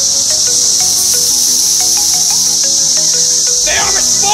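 Periodical 17-year cicadas drone in a loud, continuous high-pitched chorus that fills the whole scene, with faint background noises and a brief swooping sound near the end.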